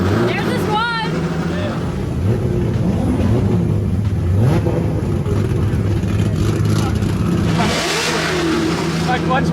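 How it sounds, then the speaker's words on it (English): Drift cars at a Long Beach Formula Drift event revving hard near the limiter and doing burnouts, a loud continuous engine roar with rising and falling revs, crowd chatter and talk mixed underneath. "People are doing burnouts."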